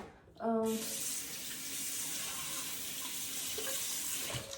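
Water runs from a kitchen tap into a sink in a steady, close hiss right after it opens, while chopped napa cabbage and carrot are drained for dumpling filling.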